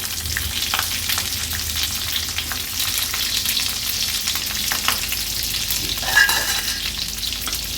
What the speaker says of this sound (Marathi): एक एक करून ह्या स्टफ केलेल्या मिरच्या आपण तेलावर सोडतोय।